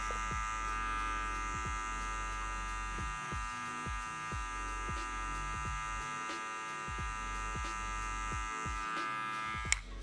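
Electric hair clippers cutting a low taper fade, a steady close buzzing motor hum with a repeated rhythm of short strokes as the blade passes through hair, alone with no voices.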